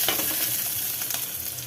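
Chana dal, garlic, four or five small shallots and four dried chillies sautéing in a pan for a vallarai keerai thogayal, giving a steady, close, continuous sizzle and crackle with no voices.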